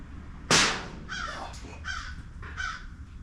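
Crows caw outdoors near a zero-turn mower during its service, with a sharp thump followed by three loud, spaced caws, each in two or three quick pulses.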